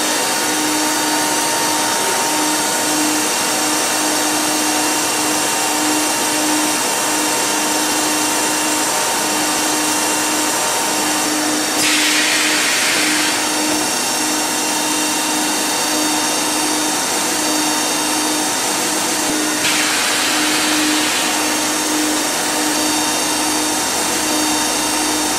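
Rotor machine applying anti-fog chemical to polypropylene, with its covers open, running as a steady loud whirring drone with a constant hum throughout and two brief hissing surges partway through.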